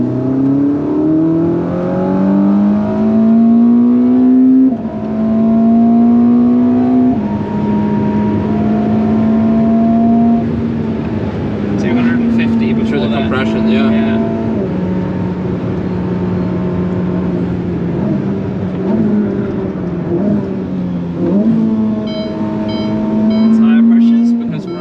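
A Ferrari SF90 hybrid supercar accelerates hard on the Nürburgring, its engine droning loud and steady with rising and falling pitch through gear changes, heard from inside the car while people talk over it.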